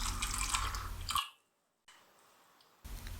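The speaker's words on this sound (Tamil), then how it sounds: "இது முங்குற அளவுக்கு தண்ணி ஊற்றிக்கலாம்" Water is poured over soaked black-eyed peas in a pressure cooker, a close splashing, gurgling pour that cuts off abruptly, followed by near silence and then another brief burst of splashing.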